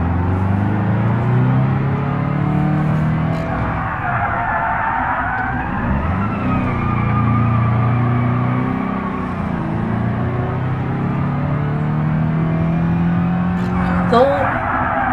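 A car engine revs repeatedly as the pedal is pumped, rising and falling in long, loud swells with brief dips between them, heard up close with a squeal near the end.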